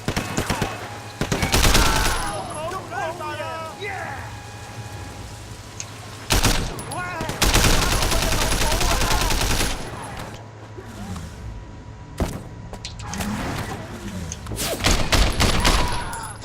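Gunfire in the video game Sleeping Dogs crackles in rapid bursts and volleys, loud and dense, broken by short pauses between exchanges.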